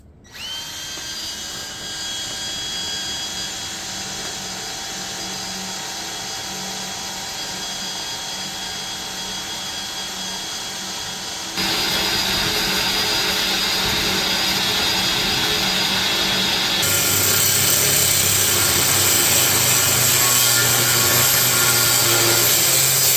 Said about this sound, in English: I was working on the fuller, I started sanding it